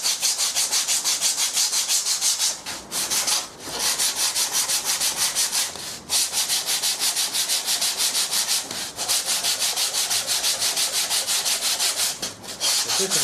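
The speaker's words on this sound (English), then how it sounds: "So I'm going to sand that now till I get quite a sharp edge" Continuous back-and-forth rubbing of sandpaper on wood while shaping the piece to a sharp edge, steady and close, with a few brief pauses in the strokes and no talk.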